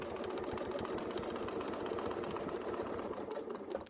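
Stitching up to the top of a quilted Persian turrets piece, a sewing machine hums at a quick even pace, close and continuous, with no voices over it.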